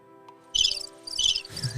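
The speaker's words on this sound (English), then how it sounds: "With the crickets." Crickets chirp in three short bursts, close and fairly loud, over a faint steady background hum with no talking.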